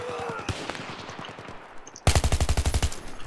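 Gunfire in the shooter game Battlefield 3: scattered single shots and short bursts at first, then a loud, close burst of rapid automatic fire with evenly spaced cracks toward the end.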